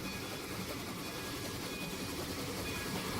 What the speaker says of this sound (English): The train starts to decelerate